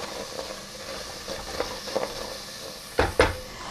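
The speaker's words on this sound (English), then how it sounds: "I'm just going to give this a stir" Sliced carrots stirred in a cooking pot, giving soft scraping and light clinks at intervals, with two sharper knocks of the spoon against the pot near the end, faint against a quiet background hiss.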